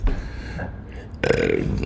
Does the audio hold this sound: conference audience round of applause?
no